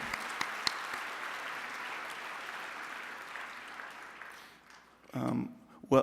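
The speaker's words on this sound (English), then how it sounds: "They deserve a huge round of applause" Audience applause fills a hall at a medical simulation society's presidential address, a steady broad wash of clapping that tapers off toward the end before a brief louder burst.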